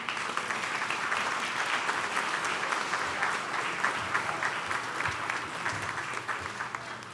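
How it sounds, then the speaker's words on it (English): An investor-dinner crowd claps in a steady, even wash of applause, moderately loud and continuous from start to finish with no talking over it. "Round of applause for all of them."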